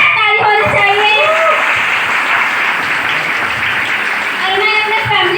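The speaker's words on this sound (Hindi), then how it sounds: "उनके लिए जोरदार ताली होनी चाहिए।" Loud, dense applause from an audience for a speaker's relative, sustained and even throughout, with faint voices mixed into the clapping.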